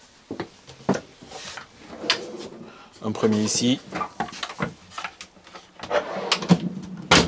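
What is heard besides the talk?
drawers opening in Bavaria 696S camper van kitchen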